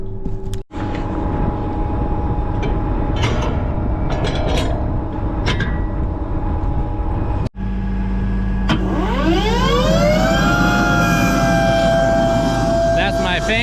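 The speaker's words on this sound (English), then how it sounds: "That's my fan, if you can't tell. It's really loud." Loud, steady blowing drone of a farm tractor's cab fan, interrupted by two brief clicks, then a rising whine that settles into a constant tone as the fan speeds up.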